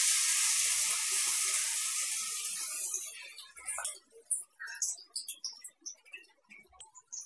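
Aloe vera dropped into hot oil in a kadai for a homemade hair oil, a loud hissing sizzle at first that dies down into scattered crackles and pops, close by.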